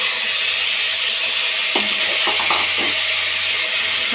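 Mutton boti fries with onion in oil after ginger-garlic paste, a steady sizzle and hiss broken by a few scraping stirs of a spoon against the pan, close and fairly loud with no voices.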